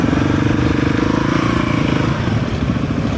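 Motorcycle engine rumbling steadily and close at a large motorcycle rally, a loud continuous low drone with slight fluctuation as the bike moves off, no talk over it.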